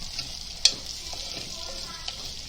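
Onions frying in a pan for sarson ka saag, a soft continuous sizzle with one sharp clack of a utensil early on and a few faint scrapes of stirring.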